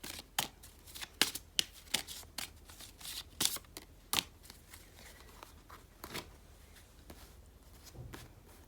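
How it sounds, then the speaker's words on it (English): A small deck of ten tarot cards is shuffled by hand, making close, crisp riffles and sharp snaps in irregular bursts against a quiet room. "I'm just shuffling these 10 cards"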